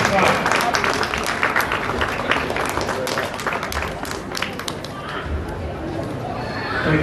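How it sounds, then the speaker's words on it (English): A crowd at a Hindu temple event in Basin, Melbourne applauds in a steady, dense wash of clapping that stays loud from start to finish and fades slightly toward the end. "please give him a big hand"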